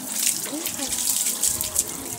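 Water runs steadily from a tap during a dog's bath, a continuous hiss and splash with voices talking briefly over it.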